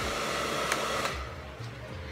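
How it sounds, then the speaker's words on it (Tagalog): Cheap hair blow dryer blowing hot air, a steady close whooshing roar that holds throughout and dips briefly near the end, with no talking. "dito na yung mainit na hangin na lalabas dito sa blower"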